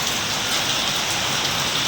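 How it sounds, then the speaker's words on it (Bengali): Heavy rain pours down in a dense, steady roar that drowns out everything else, close by and unbroken. "বৃষ্টি কেন ভাই এত বৃষ্টি?"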